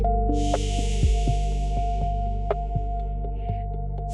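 Rhythmic sparse clicks and soft thwacks of a wooden silk loom being worked by a weaver, spaced in a slow heartbeat-like pattern over a steady low hum, with a faint hiss early on.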